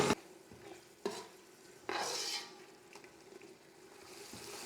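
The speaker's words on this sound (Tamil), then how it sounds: "தக்காளி, இந்த பச்சை விழுது எல்லாமே வந்து நல்லா வதங்கிட்டு பச்சை மணம் போகணும்." Tomatoes with coriander, mint and green chili paste sautéing in a pan, with a soft sizzle and several distinct spoon scrapes and stirs at irregular intervals, close and fairly quiet.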